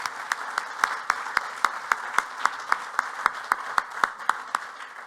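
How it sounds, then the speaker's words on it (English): Sparse applause for a conference panel, with clearly separated, rhythmic claps from a small group, steady throughout. "please would you give the panel a very large round of applause."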